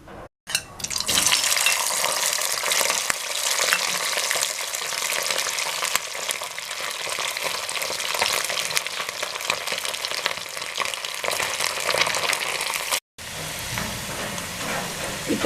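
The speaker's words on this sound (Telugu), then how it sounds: "డీప్ ఫ్రై చేసుకోవాలి." Boiled chicken pieces deep frying in hot oil for Hyderabadi chicken pickle, a loud, continuous sizzle and bubbling that holds steady throughout, with a brief break near the end.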